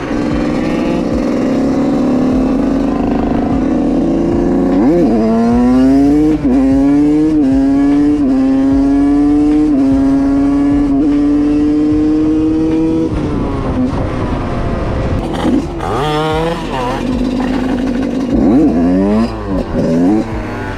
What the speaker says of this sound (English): He has a derby senda, and he's doing the crazy wheelies.